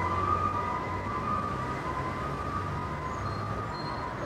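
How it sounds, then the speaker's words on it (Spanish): Ambulance siren sounding steadily on a city street, a sustained wailing tone held over continuous traffic rumble, moderately loud and with no voices. "Es una ambulancia."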